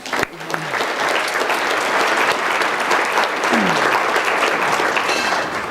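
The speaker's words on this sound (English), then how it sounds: "everyone, give yourselves a round of applause." Audience at a graduation-style speech breaks into sustained, steady applause, a full wash of many hands clapping that holds at an even loudness throughout.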